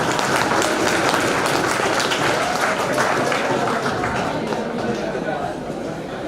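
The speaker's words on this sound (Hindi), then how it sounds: "अब मैं देखना चाहता हूँ कि खुद के लिए कितनी जोर से ताली बजा सकते हो।" An audience at a celebration claps loudly for themselves, fast dense applause sustained throughout, close and full, with some voices underneath and a slight easing toward the end.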